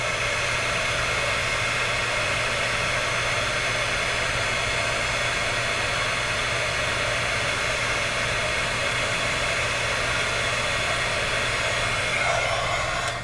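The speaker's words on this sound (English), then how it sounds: "Alaina's going to hand me the heat tool" A heat embossing tool blows hot air to melt embossing powder on a washer necklace, a steady close-up whooshing roar that holds evenly throughout with no talking.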